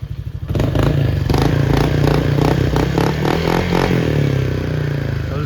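A motorcycle fitted with a 4ROAD aftermarket exhaust pipe accelerates hard. A loud, close, rasping exhaust note climbs and holds over several seconds, with a clattering edge and short pulses of revving.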